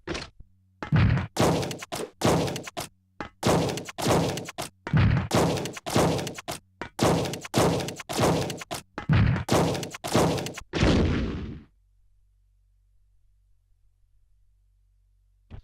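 Acid rounds fired at Mr. X in the video game Resident Evil Survivor land as a rapid series of loud, sharp impact thuds and cracks, about a dozen in quick rhythm before a low hum and silence.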